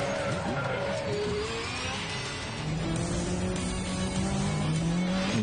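Race car on a slippery track, a continuous engine drone with shifting pitch and faint tire sounds, steady throughout with no talking.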